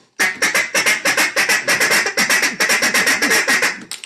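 Duck call blown as a rapid feeding chatter for waterfowl, a fast, loud, steady string of clipped quacking notes close up, repeating without pause for about four seconds.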